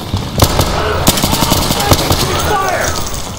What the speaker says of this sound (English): You're now both shooting at each other